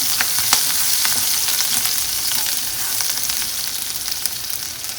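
Green chili and ginger sautéing in hot oil, a loud, dense, continuous sizzle with light crackles and occasional stirring, no voices.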